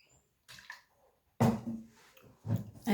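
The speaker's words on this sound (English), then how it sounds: "I'm just going to have a glug of water" A person takes a drink of water in a quiet room, a few close, wet gulping and swallowing sounds in short bursts separated by brief silences.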